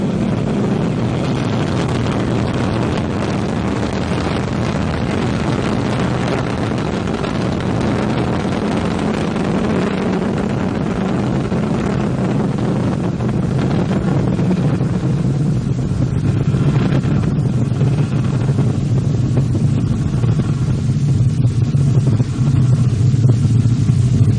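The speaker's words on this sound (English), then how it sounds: "Roar of her engines, a lot of fire, and with Bepi Colombo on board" An Ariane 5 rocket carrying BepiColombo lifts off, its engines producing a continuous, heavy, distant roar that holds steady and slowly builds, with no talk over it.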